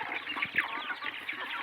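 Desi chickens on a poultry farm cluck in a dense, busy chorus, with overlapping calls and short squawks close by, steady and fairly loud.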